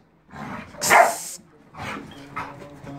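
Playful pitbulls barking and yipping during rough play, a few short close barks bunched near the start and a couple of softer ones later, with faint scuffling between.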